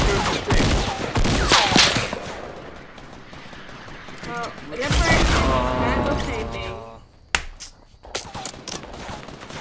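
Bursts of rapid gunfire in Gears of War 4 competitive play, loud sustained volleys coming in waves with short gaps, a sharp single crack near the end, mixed with game sounds.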